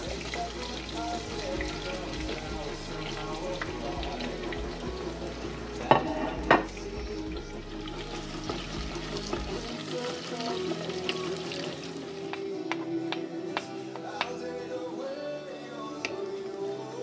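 Sliced onion, garlic and mushrooms fry in white cooking oil in a pan, a soft steady sizzle with scraping stirs and a few sharp clinks of a utensil, fairly quiet and close.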